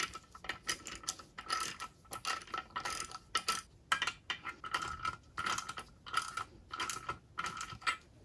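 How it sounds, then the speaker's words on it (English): A socket and ratchet tighten nuts on a Mercruiser Alpha outdrive lower unit, giving quick, repeated clicking strokes in a steady rhythm, close but fairly quiet, with no voices. "go ahead and tighten them with your socket and ratchet"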